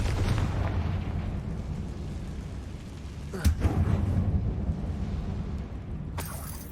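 Bombarda and Confringo spell explosions inside an abandoned mine in the video game Hogwarts Legacy: a dense, rumbling roar that runs throughout, broken by a sharp burst about midway and another near the end.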